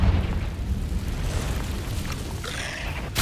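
Fiery Confringo spell blast from the video game Hogwarts Legacy in a cave: a loud, sustained rumbling boom with a sharp crackling burst near the end, no talking.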